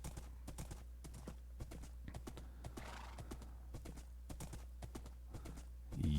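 Horse hooves clip-clopping in a Minecraft-style video game, a steady rapid rhythm of crisp hoof clicks over a low hum, ending in a brief louder burst.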